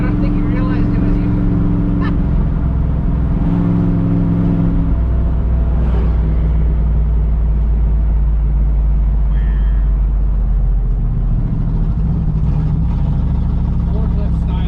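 A 1966 Buick Skylark's engine runs with a steady low rumble, swelling slightly at times, while people talk over it nearby.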